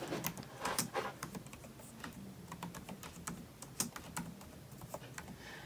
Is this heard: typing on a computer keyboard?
yes